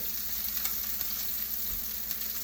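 A buttered steak sizzles in a hot pan with a steady, close hiss and faint crackles, no voices over it.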